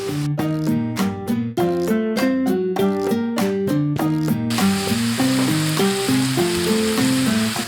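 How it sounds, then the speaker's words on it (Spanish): Onion and chili peppers fry in a pan for a Cuban ajiaco, a steady sizzle that swells in the second half beneath continuous background music. "ahora voy a sofreír la cebolla"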